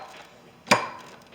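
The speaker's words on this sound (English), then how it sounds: "That's just kind of driving that shaft in" A CV axle shaft on a BMW 328i is driven into place with a slide-hammer motion, giving a single sharp metallic knock that rings briefly and fades, with quiet background before it.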